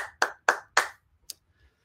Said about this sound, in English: I can't hear you, but I'm going to give you a round of applause.